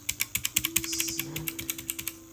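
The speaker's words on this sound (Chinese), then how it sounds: "轻轴的话它的那个声音就很清脆干净利落。" Keys on a mechanical keyboard with light switches are typed in a quick, even run of crisp, sharp clicks, about twenty strokes close up with no talking.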